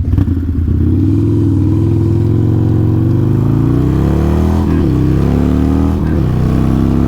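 A Harley-Davidson Iron 883 fitted with a 1200 big bore kit accelerates hard under load, its loud, steady V-twin exhaust drone rising in pitch through gear changes, heard close and continuous with no talking.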